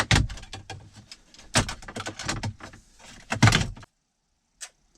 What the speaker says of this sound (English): I'm just using this plastic tool. Not to scratch anything. Pry out on some of these.